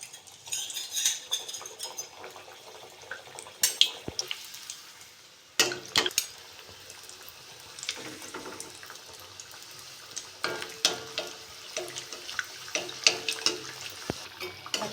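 Flour nimki frying in hot white oil in a wok, a soft steady bubbling hiss broken by sharp metallic clinks of a utensil against the pan.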